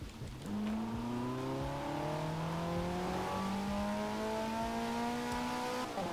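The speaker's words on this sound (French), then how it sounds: "je vais vous faire écouter un petit peu le son qu'on a récupéré sur cette Maserati GTS de Forza Horizon 3." Maserati GTS with a 4.7 V8 in Forza Horizon 3, revving up steadily through several gears in a sustained, loud engine drone with rising pitch on each shift.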